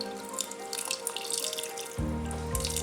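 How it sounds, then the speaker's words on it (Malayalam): Water is poured into jaggery in a pan to melt it for sughiyan. A steady close splashing and trickle builds, then turns fuller and heavier about two-thirds of the way through. "ശർക്കരയിലേക്ക് വെള്ളം ഒഴിച്ച് മെൽറ്റാകാനായിട്ട് അടുപ്പിലേക്ക് വെക്കാം."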